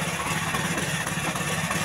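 Small rice transplanter engine idling steadily with a low, even rumble while its carburetor is adjusted, hard to start and running rough, sounding close and continuous with no talk.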